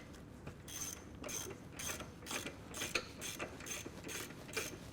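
Ratcheting clicks from winding the stem bolts of a Graco Xtreme airless sprayer lower pump body up toward the air motor, a steady series of about ten close, sharp mechanical ratchet bursts with no talking.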